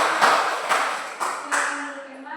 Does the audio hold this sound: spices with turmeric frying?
no